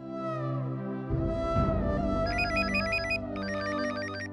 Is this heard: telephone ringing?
yes